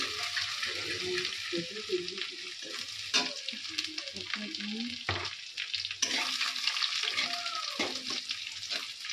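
Onion paste frying in hot oil, a continuous close crackling sizzle lasting throughout with occasional stirring knocks and faint background voice sounds.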